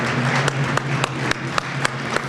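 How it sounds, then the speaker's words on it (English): Steady applause from a crowd, dense continuous clapping with a few sharper claps standing out, fairly loud and close throughout. "give them a nice, loud round of applause"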